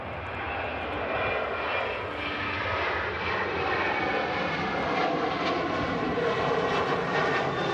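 A Ryanair airliner departing Amsterdam for Alicante, a loud sustained jet engine roar that holds steady and swells slightly toward the end, with no talking.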